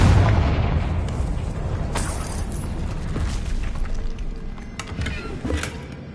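A Confringo fire spell from the Hogwarts Legacy video game bursts open with a deep boom, followed by crackling debris, creaks and scattered pops fading out afterward.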